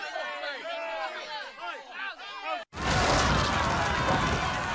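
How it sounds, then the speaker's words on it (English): A crowd sound effect of angry rioting starts abruptly as a loud, dense roar of many voices and noise, after a stretch of overlapping chattering or cawing voices that cuts off in a brief silence. "Angry rioting."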